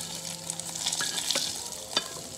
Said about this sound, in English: Gonna add my tofu that is now cooked and seasoned.